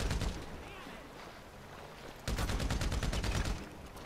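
Heavy automatic gunfire from big guns in a castle-themed shooter game, a loud rapid burst of regularly spaced shots in the second half after quieter mixed game noise.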